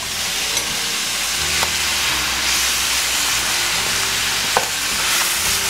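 Escarole and romaine greens fry in a skillet with a loud, continuous sizzle and hiss, broken by a few brief clicks of stirring.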